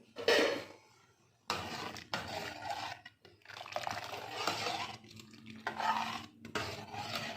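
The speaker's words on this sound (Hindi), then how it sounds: "अब अपनी सारी चीज़ों को जो है एक बार अच्छे से मिक्स कर लेना है।" Hot and sour chicken vegetable soup being stirred and mixed in a pot, heard as several bursts of scraping and liquid swishing with short pauses between them and no talking.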